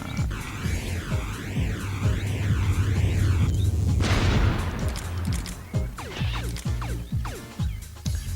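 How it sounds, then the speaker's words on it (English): Explosion in the video game Buck Bumble, a loud booming blast with a rushing burst of noise in the middle, set among rapid gunfire bursts, warbling sweeping synth tones and a low throbbing drone. "It's got a big radius on that explosion"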